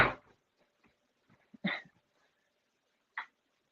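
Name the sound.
dog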